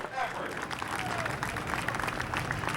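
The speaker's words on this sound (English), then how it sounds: "how about a big round of applause for this lead pack?" Spectators at an open water swimming national championship in Castaic clap and cheer for the men's 5k lead pack, moderately distant applause with crowd noise and a talking announcer over it.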